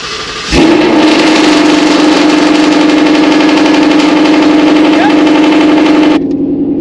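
A Ford S550 Mustang GT with catless long-tube headers and an aggressive exhaust cold-starts with a sharp crank and bark, then settles into a loud, steady, rumbling high idle that cuts off abruptly near the end.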